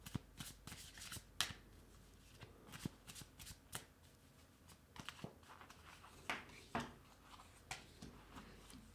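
A tarot deck is shuffled by hand close up, with soft papery riffles and sharper card slaps in an uneven rhythm across a quiet room.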